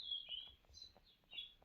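Feathered-foot pigeons in a loft give soft chirping calls in short bursts, faint and close, with no talk over them.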